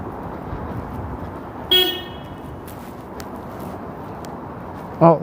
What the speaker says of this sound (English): what kind of jerk would honk at me?